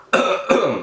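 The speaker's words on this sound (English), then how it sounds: "sorry, I keep coughing" Two quick, harsh coughs close up, the second following shortly after the first.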